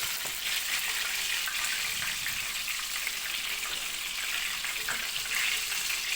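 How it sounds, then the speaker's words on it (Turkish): Steady, close sizzling of börek pastries frying in hot oil, a continuous crackling hiss without pauses. "son böreklerimi şöyle açıp kızartıyorum"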